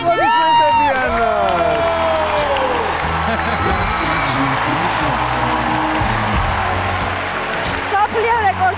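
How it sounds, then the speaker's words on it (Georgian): A talent-show audience roars with loud, sustained applause and cheering after a world-record performance on stage, with high whoops and shouts rising at the start before settling into a dense, steady crowd din. "კიდევ ერთხელ ყველაზე მაგარი აპლოდისმენტები"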